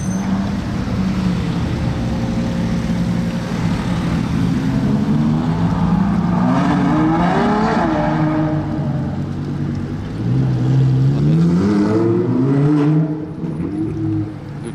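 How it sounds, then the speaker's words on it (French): A Porsche 992 GT3 sports car arrives outside a hotel in Monaco during the Grand Prix, its engine note rising and falling in several revving surges over steady street and crowd background. "Il y a une GT3 qui fait son arrivée au Fairmont."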